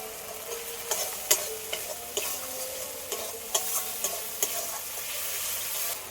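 Spices with turmeric and salt being stir-fried in a pan for a stuffed pointed gourd (potol) dish, with a steady sizzle under scrapes and taps of the spatula at irregular intervals. No one speaks.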